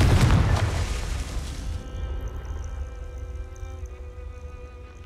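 A Confringo spell explosion in the video game Hogwarts Legacy lands as one loud, deep boom that rolls off into a long, fading rumble with faint ringing tones.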